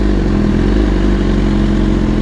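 A BMW S1000RR sport motorcycle rumbles steadily while riding through Times Square in New York City, its mid-pitched engine drone loud and close, with a faint clatter and no voices.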